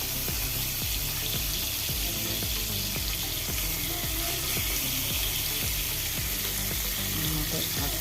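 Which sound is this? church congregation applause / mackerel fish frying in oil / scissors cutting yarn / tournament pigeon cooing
mackerel fish frying in oil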